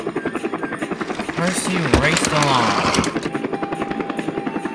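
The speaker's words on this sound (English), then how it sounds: "it looks like Percy was racing a helicopter." A helicopter flies close by with a steady, throbbing rotor chop that swells as it passes nearby, while a narrator speaks over it.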